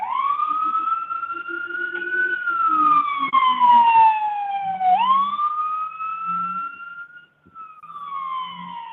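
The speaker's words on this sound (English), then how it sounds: "there's an ambulance going the wrong way down the street" An ambulance siren wails loudly along a street, its pitch sweeping up and down and dipping as the vehicle passes, with a low engine rumble beneath and a brief drop to quiet near the end.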